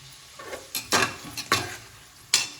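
Green chillies and curry leaves sauté in a pan for mutton biryani, heard as a few sharp spoon scrapes and knocks against the pan over a quiet, soft sizzle.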